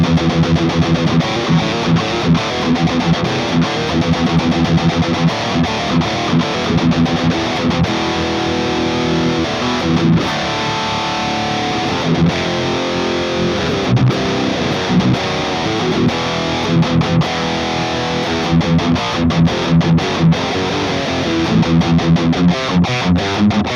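Heavily distorted electric guitar through a Kemper profile blending a Mesa Dual Rectifier and a 5150 amp, loud continuous high-gain riffing with tight chugs, played alone.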